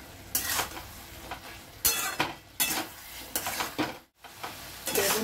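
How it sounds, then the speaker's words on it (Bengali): Cooked eggplant curry gets stirred in a pan with loud repeated scraping and clattering strokes over a constant sizzle, with one short silent break near the end. "সব সেদ্ধ হয়ে গেছে, একটু ভালো করে নেড়ে নিই"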